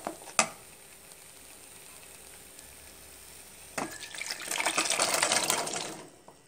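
Boiled chickpeas and their cooking water are poured into a chickpea masala in a pan, starting with a sharp clank, a quiet stretch, then a rushing, splashing pour that swells and fades over a few seconds.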